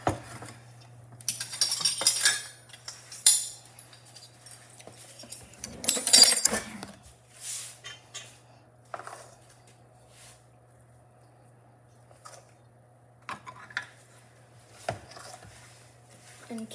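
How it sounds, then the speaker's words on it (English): Blueberry muffin batter is spooned into a muffin tray: scattered clinks and scrapes of a spoon against metal come in irregular bursts with quiet gaps between them, close by over a low steady hum. "Now my mom is gonna scoop the mixture of muffins into the muffin tray"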